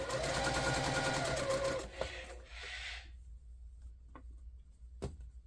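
A sewing machine stitching quilt blocks runs in a steady, rapid mechanical chatter for about two seconds, then stops. Fabric shuffling and a few sharp clicks follow close by.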